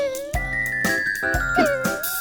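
A bright chime sounds in a Malayalam nursery rhyme about a mouse climbing a clock, a series of ringing tinkling tones held over musical accompaniment, close and clear.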